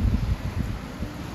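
Strong outdoor wind buffets the microphone in low, rumbling gusts that rise and fall close up, with no other sounds.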